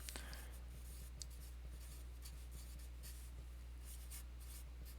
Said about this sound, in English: I'm going to start writing out the general solution.